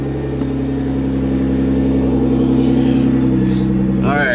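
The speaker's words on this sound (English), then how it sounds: "Setting off in the Nissan GTR" Nissan GTR R35 engine humming steadily as the car sets off, a low droning rumble that holds throughout at close range, with a short higher sweep near the end.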